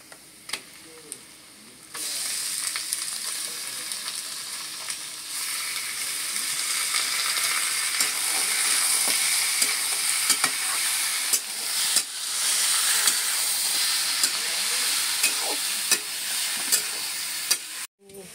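Mutton dropped into a pan of browned onions, bursting into a loud, continuous sizzle and steamy hiss that runs on for many seconds with scattered clinks of stirring, close by and without talk.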